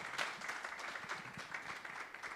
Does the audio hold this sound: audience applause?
yes